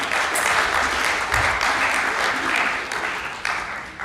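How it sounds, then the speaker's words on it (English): Audience applause for Zion at a Pasifika Fusion rehearsal-room event, a steady dense wash of clapping from a crowd that carries on evenly for the whole stretch. "another round of applause for Zion"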